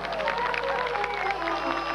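An outdoor audience at a Turkish highland festival in Almus, Dikili, applauds steadily, a dense wash of clapping mixed with crowd noise and some cheering, heard at a distance for two seconds.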